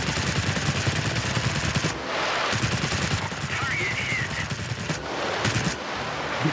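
Spitfire V DB 605 firing its guns at an enemy plane in World of Warplanes, dense rapid gunfire bursts over a constant engine roar, broken by brief pauses.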